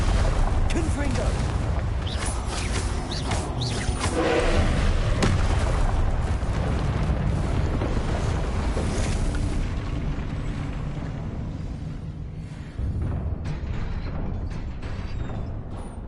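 Continuous roar of explosive blasts and rumbling booms from the Confringo fire spell in Hogwarts Legacy gameplay, dense and sustained, easing slightly toward the end with a fresh burst near the close.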